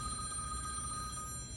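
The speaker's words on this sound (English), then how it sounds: "Oh, oops. That's your phone, Mark." A telephone rings steadily and fairly faintly behind a low background hum, sounding as one continuous electronic tone with no talk over it.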